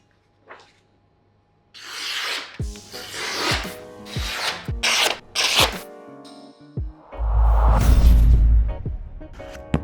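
A knife is drawn through a 3D-printed sharpener in a series of close, rasping strokes with short gaps between them, ending in a longer, heavier scrape, with no talk.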